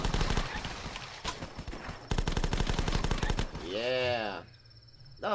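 Rapid bursts of video-game gunfire from The Last Stand zombie game, loud rattling volleys, a short gap, then more shots, ending in a sweeping tonal game sound.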